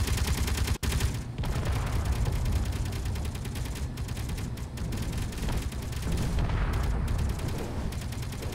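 Gunfire in a Space Engineers survival game, a dense continuous barrage of rapid shots and booms that fills the whole stretch loudly, with only one brief break near the start.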